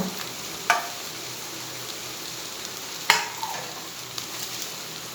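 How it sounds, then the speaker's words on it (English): Egg biryani masala of coriander powder, biryani powder, red chili powder and turmeric sautes in a pan with a steady soft sizzle, and a spoon scrapes and stirs it twice with sharp clacks. "again we will saute it for 1 to 2 minutes"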